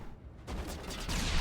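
Grenade blast in the video game Mass Effect, a loud roaring burst of explosive noise that swells and stays dense with rumbling crackle, following a quieter moment, with no talking over it.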